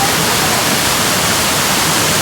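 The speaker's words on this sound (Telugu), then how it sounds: "ఈ ఎగ్జిబిషన్లో ఫేమస్ ఈ నయాగరా ఫాల్స్ సెట్ చేశాడండి." Replica Niagara Falls waterfall at an exhibition in Bangalore, a dense, continuous rushing roar of falling water, steady and loud with no breaks.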